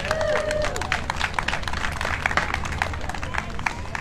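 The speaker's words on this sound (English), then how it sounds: "give yourselves a round of applause" Walkers at a Make-A-Wish Walk for Wishes closing ceremony at the John Ball Zoo clap outdoors, a crisp patter of many hands with scattered cheers and voices in the crowd.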